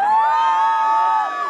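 At an Indian wedding sangeet, a loud, sustained shout or cheer rises from the guests, a single drawn-out voiced whoop lasting over a second.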